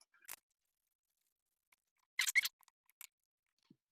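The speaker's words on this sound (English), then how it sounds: "Now I'm going to use my scissors to cut up one of these sentences" Scissors snipping through paper sentence strips, a few short crisp cuts close by, with a quick cluster of snips in the middle and quiet gaps between them.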